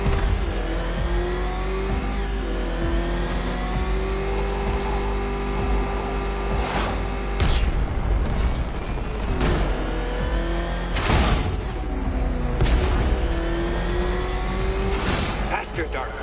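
The Batmobile races at speed in a Batman video game on PS4, its engine droning loudly and continuously with surging revs and whooshing bursts, while voices talk over it.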